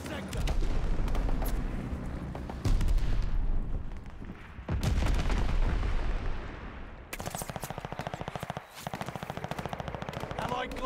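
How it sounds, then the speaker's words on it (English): Bombing run explosions in the World War II shooter Call of Duty: Vanguard, with heavy, dense booms and rumbling blasts overlapping with rapid machine-gun fire, loud and close, under occasional game radio chatter. "Allies called a bombing run."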